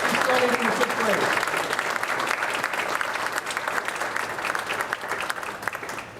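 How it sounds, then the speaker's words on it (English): Applause for fifth graders at a school event, with sustained, dense clapping from a large audience that carries on steadily for several seconds, with crowd voices underneath. "Give them a round of applause."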